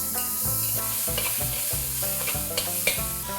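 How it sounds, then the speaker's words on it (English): Garlic and ginger paste sautéing in a pan, a steady close sizzle with stirring scrapes, partly masked by continuous background music carrying a repeating bass pattern throughout. "Saute this for a minute or two,"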